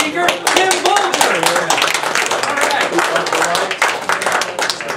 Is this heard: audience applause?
yes